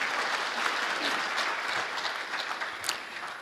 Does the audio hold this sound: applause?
yes